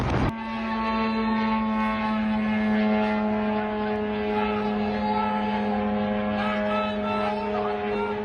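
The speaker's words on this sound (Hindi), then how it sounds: "कैसे ड्रोन आता है तेज रफ्तार से और बहरीन में धमाका होता है।" A drone flies in fast toward Bahrain, a steady loud droning hum with strong tonal whine that holds throughout after a brief sharp onset, no speech heard.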